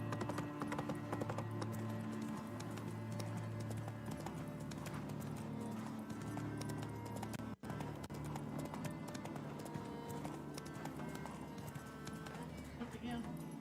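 Horse hooves clip-clop steadily in The Witcher video game, a continuous rhythmic trot under game music and ambience, with a brief whinny and someone talking over it.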